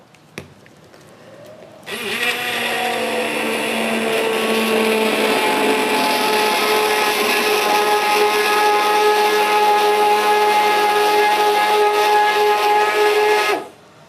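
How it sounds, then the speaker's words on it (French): Immersion hand blender whirring steadily as it purées cooked rhubarb in a bowl in a restaurant kitchen, starting abruptly and running loud and continuous for about twelve seconds before cutting off. "on a pris là le petit mixeur plongeant"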